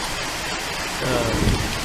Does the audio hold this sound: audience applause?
no